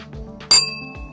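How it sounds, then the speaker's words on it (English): A wine glass tapped once lightly with a spoon gives a bright, clear ring that lingers and fades, heard alone over a faint low hum. "If you hit the glass lightly with a spoon, it will ring like a bell at its resonant frequency."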